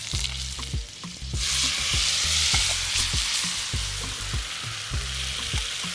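Kimchi frying in a lot of butter in a hot pan, a loud continuous sizzle with a spatula repeatedly tapping and scraping the pan in an irregular rhythm, close up.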